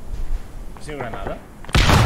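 A grenade explodes in the military simulation game ARMA 3, a sudden loud burst at the end after a brief stretch of talk over quiet battlefield ambience.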